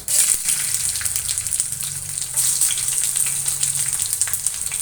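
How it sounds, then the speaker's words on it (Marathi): Chopped green chillies fry in hot oil after mustard seeds, a loud, steady sizzle and crackle that never lets up. No one speaks. "चिरलेल्या मिरच्या आहेत त्या घालून घेऊया"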